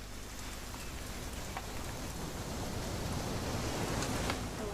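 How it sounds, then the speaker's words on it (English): Steady rain pours in What Remains of Edith Finch, a dense, even hiss of drops on surfaces with a few brighter splashes, continuous and fairly loud throughout. "It's gonna rain the whole weekend"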